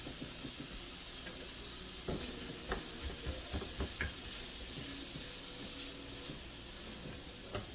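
Green peppers and onions sizzle steadily in a hot pan, a constant bright frying hiss with occasional stirring clatters and scrapes.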